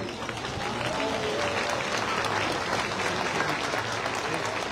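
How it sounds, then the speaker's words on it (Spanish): Steady applause from an audience at an informational political assembly in Tepeaca, dense clapping filling the whole clip with crowd murmur and faint voices mixed in. "muchas gracias y un fuerte aplauso"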